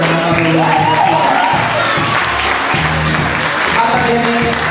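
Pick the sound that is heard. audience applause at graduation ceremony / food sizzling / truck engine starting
audience applause at graduation ceremony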